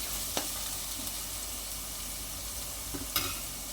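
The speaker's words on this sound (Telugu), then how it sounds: "ఇప్పుడు వచ్చేసి మనం ఆనియన్ ఫ్రై అయ్యే వరకు వెయిట్ చేద్దాం" Onions frying in a pan for quick tomato rice give a steady, even sizzle, with two brief clinks of stirring near the start and the end. No voices.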